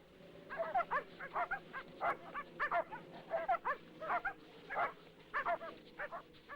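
Several dogs bark, yip and whimper in quick irregular bursts as Russian wildlife rangers and their dogs capture a young Siberian tiger in snowy country, fairly close and continuous.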